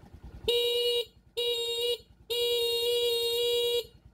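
A car horn honks three times in a row during a wiring and voltage test with a stock regulator, the first two short blasts and the last one longer, loud and close.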